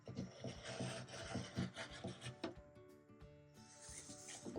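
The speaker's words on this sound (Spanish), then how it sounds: "Y ahora vamos a cortar justo en uno de los extremos" Fabric scraps are cut at one end along a ruler, making a quick series of dry rasping strokes, close and fairly quiet, with a short pause before the strokes resume.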